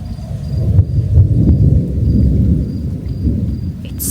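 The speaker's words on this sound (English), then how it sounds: "Can you hear the thunder and lightning? It's so bad. It is raining so bad all day." Heavy thunder rumbles continuously over steady pouring rain during an evening storm in Albania, a deep, loud roll filling the whole stretch with no voices.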